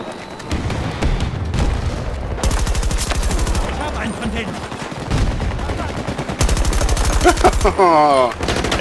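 Rapid automatic gunfire and bursts of shooting in a Battlefield 2042 Conquest match on the Orbital map, loud and sustained through most of the stretch, with dense overlapping shots and a whirring sweep near the end.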